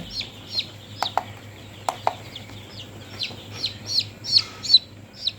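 Young chicks chirp in a string of short high peeps, some louder and closer, with a few soft thumps of movement over a faint hum.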